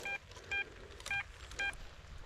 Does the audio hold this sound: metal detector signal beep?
yes